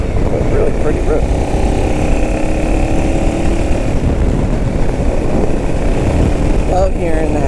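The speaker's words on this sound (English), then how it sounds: "You really can hear the motor, and it really makes everything sound good." A BMW F650GS big single-cylinder motorcycle engine pulls steadily under acceleration on an open road, a loud continuous drone with rising harmonic tones and rushing wind filling the whole stretch.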